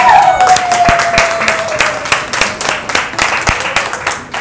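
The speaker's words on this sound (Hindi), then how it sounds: "तालियां जोरदार." An audience at a bridal makeup class claps loudly for a winner, a dense run of rapid, close claps with a brief whistle-like tone near the start.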